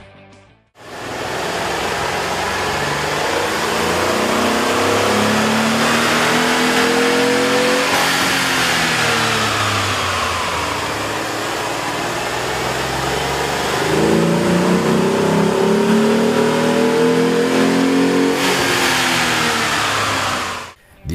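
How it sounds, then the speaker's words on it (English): A Jeep Liberty's 3.7-liter engine, fitted with a K&N cold air intake, revs hard on a dyno in two long loud runs that climb, hold and fall away, a rough close roar throughout. "With the air intake installed, we ran the vehicle on the dyno to test the sound comparison versus the stock intake."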